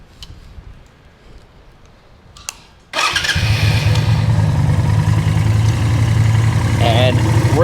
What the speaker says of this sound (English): And we will start the bike.